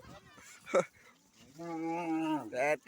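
A cow gives a long, close moo after a short sharp sound, with a brief quieter call at the end, during the Goru Bihu cattle festival.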